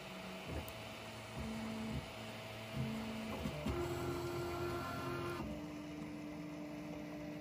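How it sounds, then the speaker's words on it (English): A 3D printer prints a tiny plastic box as a housing for a small voltage down converter. Its stepper motors sing in steady tones that change pitch as the moves change, over a constant fan hum, with no talking. "the 3D printing is the way to go."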